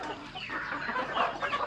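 Rhode Island hens and roosters cluck and murmur close by on a small farm at feeding time, a dense, overlapping chatter of fowl calls with no clear speech.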